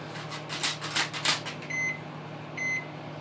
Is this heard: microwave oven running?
yes